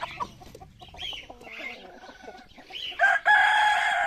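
Chickens cluck and a rooster crows in a backyard coop, the clucks scattered and moderately close before a loud, sustained crow rises near the end; no talking.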